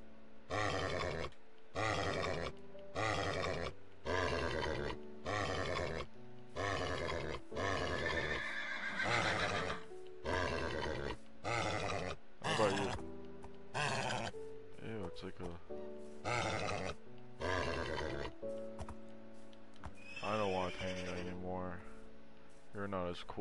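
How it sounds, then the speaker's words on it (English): Minecraft horses neigh and whinny over and over in short, evenly spaced bursts, loud and close, with a few grunting and bleating game sounds near the end. "That's a nice looking horse."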